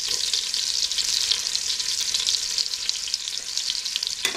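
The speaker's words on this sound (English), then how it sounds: "Melt butter and olive oil inside saucepan. Add bacon to the butter." Bacon frying in melted butter and olive oil in a saucepan, a loud, dense, continuous crackling sizzle up close with a faint clink near the end.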